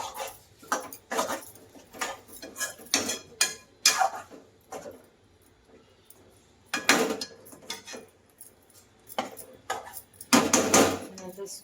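A pan of Koli-style bombil curry with kokum, gripped with a cloth and shaken by hand, giving repeated clattering, rattling bursts of metal against the stove in an irregular rhythm, close and fairly loud.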